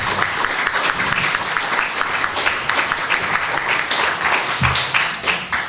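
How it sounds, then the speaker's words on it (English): Audience applause for candidates at a League of Women Voters candidates night, a full, steady round of clapping from a room of people that keeps an even level throughout. "let's give our candidates a round of applause for their participation."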